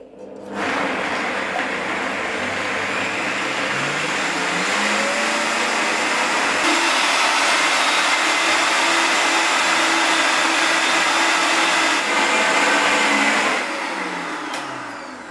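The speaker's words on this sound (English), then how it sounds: "Once all of the ingredients are in the blender, put the lid on, seal it in well, and turn it on" A blender whirs loudly with ingredients inside, sealed under its lid, starting abruptly and holding a steady roaring drone for over ten seconds before winding down, with no talking.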